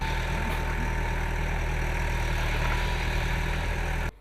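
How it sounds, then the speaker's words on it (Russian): Several tractors level soil and dig a pit for a fire reservoir at a construction site for a school and kindergarten, their engines droning in a steady, loud, low idle throughout before cutting off at the end. "Несколько тракторов выравнивают почву и роют котлован для пожарного водоема."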